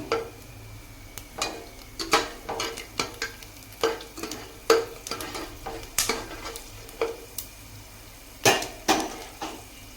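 Peanuts roast in oil in a pan with continuous faint sizzling, overlaid by a steady run of sharp spoon-against-pan clicks and scrapes from stirring every half second or so.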